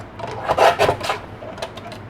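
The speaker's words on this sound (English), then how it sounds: "So I'm going to cut a little 1/2-inch strip off of this" A paper strip for a Christmas card is cut off a sheet, a few short close rasping strokes of blade through paper, loud then fading to lighter scrapes.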